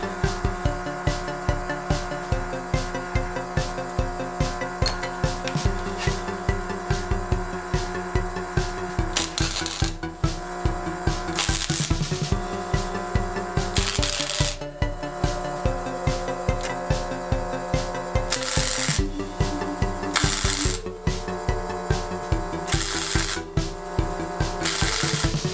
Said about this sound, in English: My welder is sounding very sick.